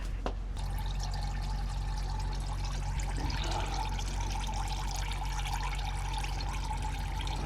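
Transmission fluid drains from a tilted transmission pan on a Deuce and a Half truck, making a continuous trickling, splashing pour that runs steadily from start to finish over a low background hum.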